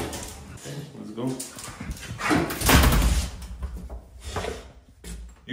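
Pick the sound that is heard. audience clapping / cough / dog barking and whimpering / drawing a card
dog barking and whimpering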